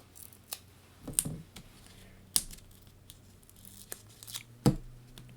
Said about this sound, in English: You might have to cut off some of your foam.